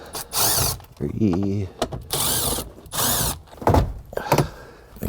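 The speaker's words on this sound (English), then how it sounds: "I can just pop these 4 screws out and make my life a lot easier" A power tool backing screws out of a car's dash trim during an infotainment upgrade, several short whirring bursts close up with brief pauses between, while someone speaks a little between them.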